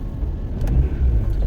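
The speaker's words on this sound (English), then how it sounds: "the traffic is certainly abysmal" A car passes by on a road in steady traffic, a close, loud, low rumble that swells briefly during a short stretch of continuous road noise.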